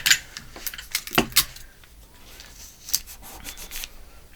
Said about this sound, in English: And we're going to tape it down.